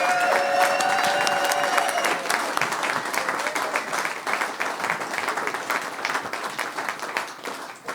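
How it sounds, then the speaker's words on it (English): An audience applauds panelists at an evening brand-building meetup, a dense wash of clapping that carries on for several seconds and slowly thins, heard nearby with a few faint voices mixed in. "Please give a round of applause to our panelists tonight."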